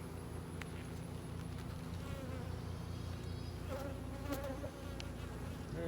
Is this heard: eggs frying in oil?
no